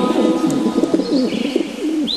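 Pigeons coo in a low, warbling run of repeated calls that continues throughout, with a short, higher chirp near the end.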